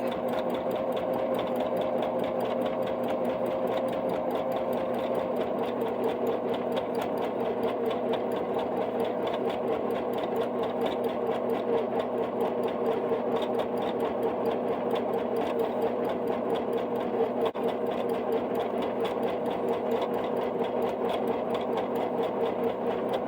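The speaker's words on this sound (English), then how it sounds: "I'm going to do one stitch across the top. And then I'm going to turn again, so I can keep going around the chick." A sewing machine stitches appliqué around a fabric chick in a steady, unbroken rapid hum that stays close and even throughout.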